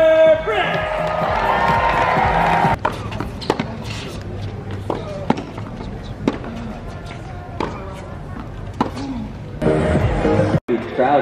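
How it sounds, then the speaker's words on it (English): Lively crowd at a tennis tournament on finals day, a steady roar of cheering with sharp claps and shouts scattered through, swelling louder near the end. "Crowd tonight is being pretty lively."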